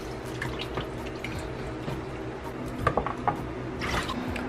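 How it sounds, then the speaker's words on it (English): Water drips and splashes close by, with a short burst of squeezing and trickling as rinsed oxtail is squeezed partway through, over a steady sink-like background. "Mommy just lightly rinse it and then squeeze the excess water from that."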